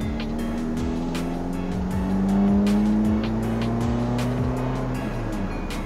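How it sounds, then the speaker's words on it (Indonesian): A 2013 Suzuki Swift with an aftermarket exhaust drones steadily while driving, its exhaust note rising and falling through gear changes, with faint clicks and ticks over the continuous hum. "knalpotnya nggak terlalu bacot, masih adem juga kalau untuk di lurusan"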